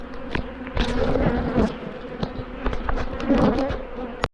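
Angry honey bees swarming around an opened hive, a dense, loud, continuous buzz with individual bees whizzing close past, no talk.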